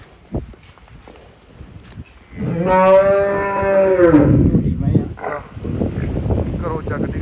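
A buffalo at a livestock sale gives one long, loud moo lasting a couple of seconds, with farm background noise, shuffling and faint voices around it.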